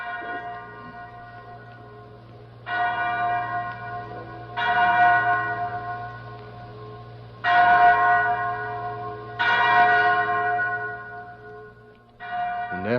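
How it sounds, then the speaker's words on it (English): A chapel bell rings out in repeated loud, resonant strikes, each ringing on and slowly decaying before the next, about five tolls with steady spacing over a low background hum. "Mary, that's the chapel bell."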